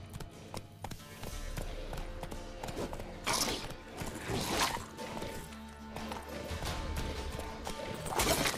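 Hoofbeats of a horse galloping in The Witcher 3 video game, a steady clip-clop rhythm running throughout with sharp clattering hits and game ambience layered on top.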